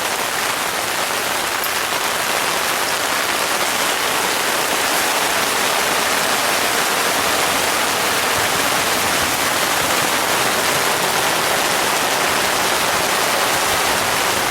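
Rain pattering on the fly of a Coleman Sundome 4-person tent, a dense, even hiss of drops and drips that holds steady and close throughout, with no voices.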